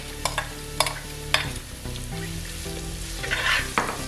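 Sliced onions hit a hot pan of half-softened ginger and garlic for a green peas kurma, sizzling and frying steadily up close with several sharp clinks and scrapes of stirring.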